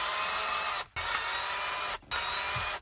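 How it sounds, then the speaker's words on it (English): A cheap handheld drill bores holes through plastic in three bursts of high-pitched whirring with short pauses between them, close and loud, with no talking. "Go ahead and grab your drill bit, your handy dandy Walmart special, and start drilling."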